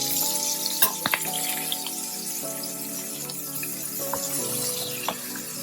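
Shrimp sizzling steadily in a hot pan after being flipped, a soft continuous frying hiss with a few faint clicks and taps, no talking.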